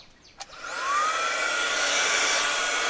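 A small, cheap vacuum cleaner used as an air pump, running on 12-volt DC from solar power; it switches on with a click and climbs to a steady, loud, close whine and airy rush.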